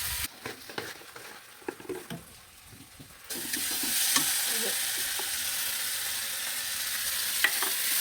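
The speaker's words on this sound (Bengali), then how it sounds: "এখন আমি টমেটো দিয়ে দিব। আর টমেটো দিয়েও এখন আমি ভালোভাবে কষিয়ে নেব, একেবারে লেগে ছেড়ে।" Spice masala with tomatoes frying in a pan while being stirred: a few seconds of quieter scraping and stirring, then a loud, steady sizzle with occasional spatula knocks and spits.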